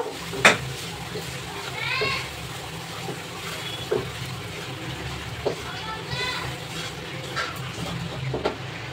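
A spoon stirs a milk mixture into sooji in a pan for Ganesh Chaturthi rava modak, giving soft scraping and occasional clinks against the pan at an irregular pace, with someone talking over it.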